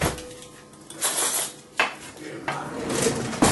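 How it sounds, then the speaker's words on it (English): A spoon is taken from a kitchen drawer in a home kitchen while preparing honey, with a few sharp clatters of metal cutlery and the drawer sliding, close by and moderately loud. "I'm going to get a nice spoon."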